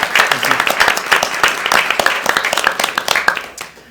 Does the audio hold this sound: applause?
yes